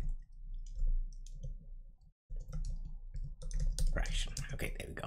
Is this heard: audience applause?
no